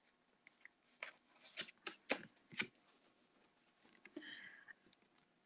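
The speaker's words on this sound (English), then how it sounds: "just shuffling" Tarot cards are shuffled by hand in a run of crisp riffling bursts, several quick flutters then a pause and a softer final shuffle, close and fairly quiet.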